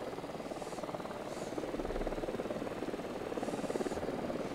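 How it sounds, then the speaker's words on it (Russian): Helicopter rotor thudding in Ghost Recon Wildlands, a steady rapid chop throughout, moderately loud and approaching, with a few faint high swooshes over it and no talk. "К нам летит вертушка."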